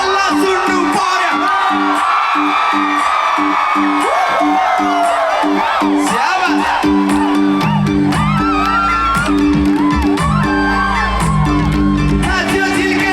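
Festival crowd at a Nepali festival in Tokyo whooping, shouting and cheering loudly over rhythmic music, with voices rising and falling throughout.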